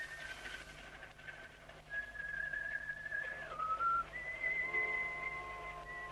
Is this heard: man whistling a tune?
yes